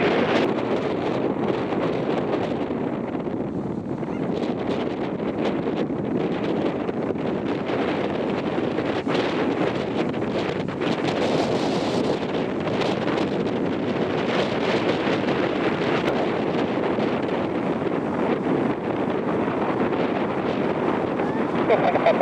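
Strong wind roars steadily across the microphone at East Midlands airport, a loud continuous buffeting rumble that masks a faint radio voice.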